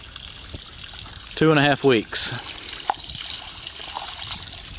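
Spring water and groundwater trickle steadily into a dug pond at the bottom of a hill with no creek feeding it, a soft continuous flow with a short stretch of speech over it.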